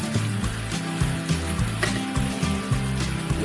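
Water poured into a pan of Maharashtrian moong bean curry made from unsoaked raw moong, a steady close liquid pour lasting a few seconds.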